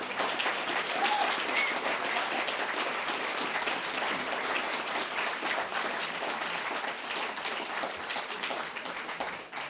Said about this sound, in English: Let's give one more round of applause for our first half of readers.